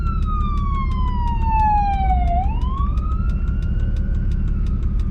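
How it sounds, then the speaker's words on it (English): An emergency siren wails loudly and close by beside a road, one long tone sliding down and then climbing back up. A steady low rumble of road traffic sits underneath. "Well, the sirens are going,"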